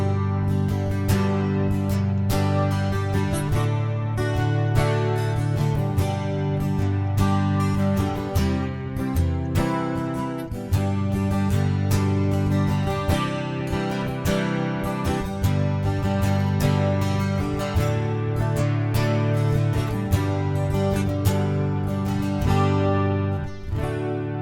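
An acoustic guitar strums Silent Night continuously, close and full, with quick melodic fills woven between chords over about twenty-five seconds, no voices.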